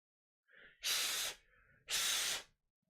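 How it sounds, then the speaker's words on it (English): Cats fighting outside: two loud, harsh hissing bursts with a thin yowl before and between them, heard fairly close. "There's a bloody cat fight or something going on outside"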